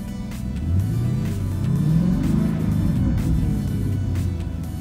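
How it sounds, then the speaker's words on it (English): A Ford Mustang GT V8 engine runs at a steady idle with a deep, continuous rumble and slight swells, close and loud with no talk. "So go ahead and start the car."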